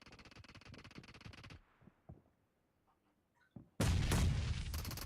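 Grenades explode in PUBG Mobile amid heavy gunfire: a loud rapid burst of shots, a near-silent gap with scattered faint pops, then a sudden powerful blast and roaring rumble that persists to the end.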